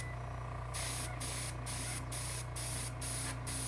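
An airbrush sprays light coats of paint on a model railroad piece in rhythmic bursts, about seven short hissing pulses close by over a steady low hum.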